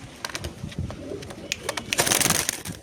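A restless breeding pair of Jiriya Mundi Sada pigeons at a home loft give soft, irregular coos and rustles close by, with a slightly busier flurry near the end and no talking.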